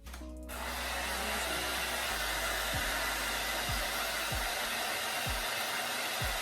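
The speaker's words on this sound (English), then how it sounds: "Put the band on first and then I blow dry, right?" A hair dryer blows steadily on the lace band of a wig, a loud continuous close whoosh that starts abruptly and holds for several seconds, with no talk.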